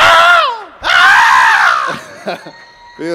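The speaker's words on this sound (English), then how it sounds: "It's good to scream." Loud, close screaming at a live show in a Manhattan Lower East Side club: two long, strained screams followed by shorter yells and a brief cry.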